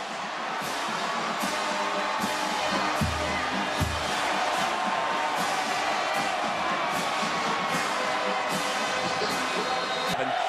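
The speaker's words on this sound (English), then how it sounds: "The Jayhawk fans with something to cheer finally." Kansas Jayhawks football fans roar and cheer in a stadium after a Kansas touchdown, a steady, dense crowd wash with whoops and shouts running throughout at moderate distance.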